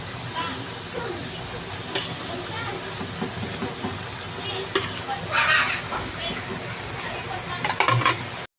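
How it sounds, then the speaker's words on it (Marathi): Chakli, a spiral snack, fries in hot oil with a continuous bubbling sizzle and hiss at a steady loudness, broken by occasional stirring clinks and faint background voices. "आणि असंच आता हे आपण सगळ्या चकल्या तळून घेऊया"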